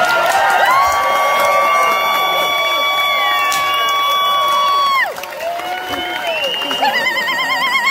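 A crowd at a Renaissance faire show breaks into loud yelling and cheering, long sustained shouts and high whoops over clapping, then a brief dip before scattered cheers and a wavering shrill yell rise again.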